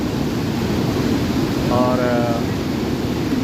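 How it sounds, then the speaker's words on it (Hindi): Water gushes out of a cave at Blagaj, Bosnia, in a steady, loud rushing roar that holds level throughout, with a brief spoken word over it. "ये सामने देखें गार से पानी निकलता है"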